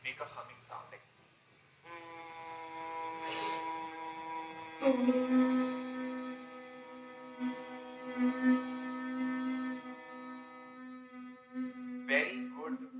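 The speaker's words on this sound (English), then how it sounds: "make a humming sound like this" Bhramari humming breath practiced as a yoga breathing exercise: a steady, sustained nasal hum held for several seconds after a brief spoken lead-in, close and clear, rising slightly in loudness partway through.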